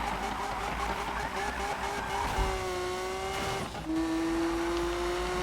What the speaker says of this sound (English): I love the sound of this car